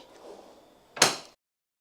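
A single quick sliding clunk of a DeWalt TSTAK toolbox drawer opening, short and close, after a moment of faint rustling.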